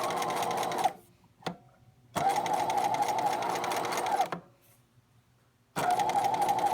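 A domestic sewing machine running a zigzag stitch along a quarter-inch seam, whirring in three steady bursts separated by quiet pauses, close and clear with no talk.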